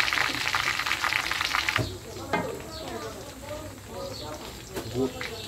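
Panch phoron and raw mustard seeds land in hot oil for mango pickle. A loud, dense sizzle fills the opening seconds, then settles into a softer crackle with faint stirring while a voice talks over it.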